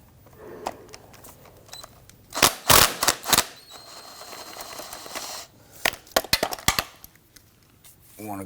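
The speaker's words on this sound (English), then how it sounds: "We want to go ahead and loosen and remove these two bolts." Two 12mm intake manifold bracket bolts on a 2011-2015 Kia Sorento are loosened with a swivel socket. Metallic clicks and ratcheting come in quick clusters, with a quiet hiss between them.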